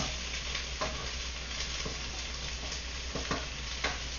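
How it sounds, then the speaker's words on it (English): Steady frying sizzle of tomato paste and vegetables in a pan, with occasional soft stirring scrapes and clicks, close and moderately quiet. "That's the tomato paste sizzling with, which is what we want."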